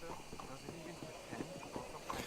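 A horse's hooves clip-clop in Red Dead Redemption 2, faint and fairly quick, under quiet game ambience and a voice talking.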